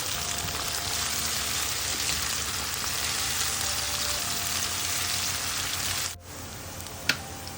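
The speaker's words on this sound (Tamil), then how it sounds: "அப்படியே வதக்கி" Chopped onions with curry leaves and fennel sizzle steadily in hot oil in a pan for a Tamil green moong dal curry. The frying hiss is dense and continuous, then cuts off abruptly near the end, followed by a single faint clink.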